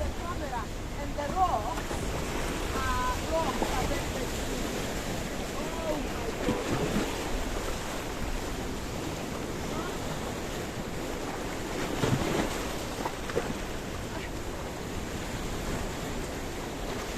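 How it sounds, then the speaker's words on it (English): Sea water lapping around coastal rocks along a seafront pathway in Kato Paphos, Cyprus: a continuous washing, sloshing surge with wind buffeting the microphone and a couple of louder splashes. "the water, well, it's licking and lapping around these rocks and around our feet, that's for sure."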